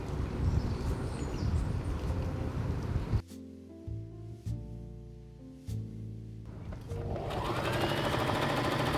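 A sewing machine runs fast while stitching an upcycled dress, then pauses. Slower short bursts of stitching follow as the fabric is turned, before the motor picks up speed again, loud and close.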